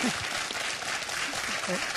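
Applause from a studio audience on a French TV quiz show, a dense wash of clapping with brief voice fragments poking through, steady and moderately loud.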